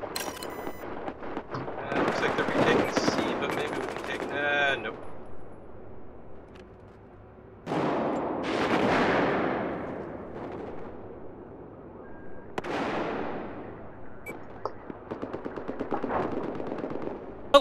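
AWS machine gun fire in Battlefield 4, long sustained bursts of rapid shots broken by short pauses, loud and close, with talk mixed in.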